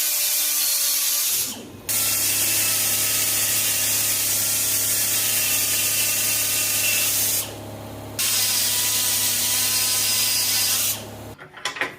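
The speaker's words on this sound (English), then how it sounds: "Now I'm using a die grinder to grind out the cracks, and that will be filled in with weld eventually." Die grinder grinding cracks out of a 1960s Honda CB77 SuperHawk motorcycle's rearset mounts: a steady, loud high whine running almost continuously, stopping briefly three times before resuming, with no talking.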